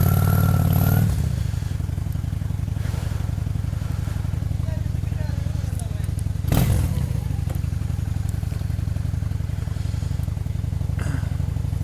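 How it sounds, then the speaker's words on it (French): A Honda Shadow VT 600 cruiser rumbles along the streets of Auxerre, its low engine drone steady and close with occasional clatter and a loud thump midway. "On a sorti la moto. On va se promener dans les rues d'Auxerre."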